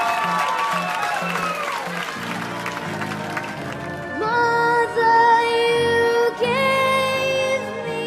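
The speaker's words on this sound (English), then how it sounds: "Please give Elizabeth a massive round of applause." Audience applause for a woman singing on stage at a talent-style show. The clapping is mixed with music: a steady band backing plays throughout, then a sustained vocal or instrumental note rises in the second half, with the applause running under it.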